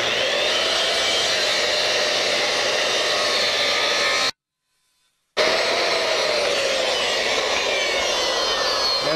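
Power saw making a straight miter cut through a wood block, a loud steady whine running continuously, briefly cut off by a second of silence, then resuming at full strength.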